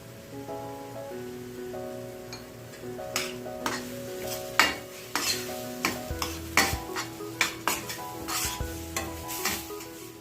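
Masala sizzles and bubbles steadily in a pan as a spoon scrapes and taps against it in a loose rhythm, with a faint musical tone underneath.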